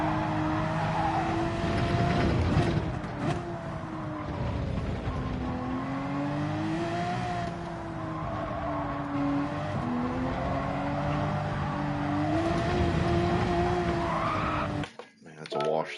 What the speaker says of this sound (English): remember I can rev the Porsche out more than I can the McLaren.